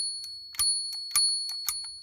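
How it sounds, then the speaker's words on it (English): A small bell on a restored Dinky Toys diecast single-decker bus rings in several quick, bright dings much like a bicycle bell, close and clear in a quiet room. "A bell, it's like a bicycle bell really"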